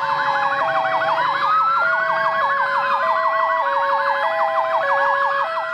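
A fire truck siren wails steadily in repeating up-and-down cycles during a funeral procession carrying a military police officer's body from the wake to the cemetery, loud and close with no talk.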